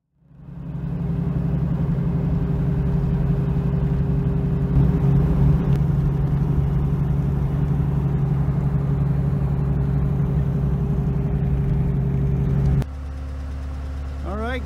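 A Porsche 944 engine runs close by on a test drive after a brake cylinder repair. It holds a steady, low drone, then shifts abruptly to a lower hum near the end.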